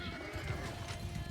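Cavalry horses in a Bannerlord battle give a brief neigh and whinny over clip-clopping hooves, moderately loud amid the clamor of combat.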